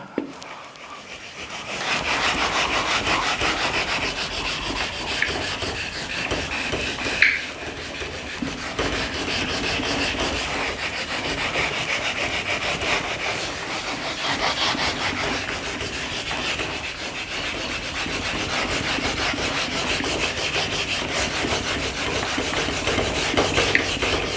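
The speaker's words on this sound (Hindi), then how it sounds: "सेकेंड पार्ट इसको रब कर रहा हूं मैं" Steady, continuous rubbing of an object across a surface to show friction, a broad scraping texture that runs evenly and loudly for the whole stretch with one brief sharper scrape partway through.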